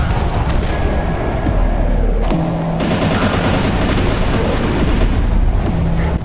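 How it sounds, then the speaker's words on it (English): Enemies firing big rockets in the shooter game INCISION, a loud, dense barrage of rapid gunfire and blasts with a heavy low rumble underneath, continuous throughout. "So they fire really big rockets at you."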